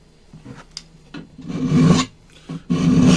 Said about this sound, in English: The point of using the file is it keeps everything flat.